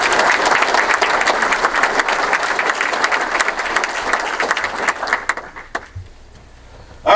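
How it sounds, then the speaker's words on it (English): Audience at a Montgomery County, NY State of the County speech gives Jeff Smith a sustained round of applause, dense clapping that thins out and fades near the end before a voice returns. "if you could just take a quick second to give Jeff a round of applause"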